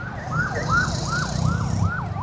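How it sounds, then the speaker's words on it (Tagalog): An ambulance siren wails in rising and falling sweeps in slow traffic around Puente Circle during Sinulog, moderately close over a low engine and road rumble. "matraffic po siya, dahan-dahan tayo kasi may emergency ambulance."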